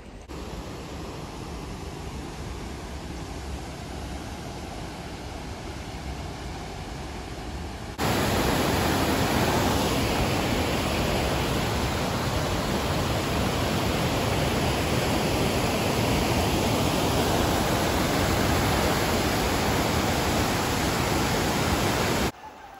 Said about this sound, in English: stop number two here is Josephine Falls